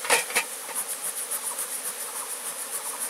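Steady buzzing of wild bees at a tree-hollow hive, a pulsing, wavering drone, close by, and a couple of sharp knocks at the start; no voices.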